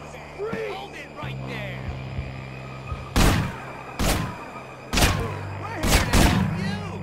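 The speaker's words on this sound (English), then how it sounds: "well, we're just gonna shoot his ass" Gunfire in the video game Manhunt, with four loud, separated shots over a humming game background.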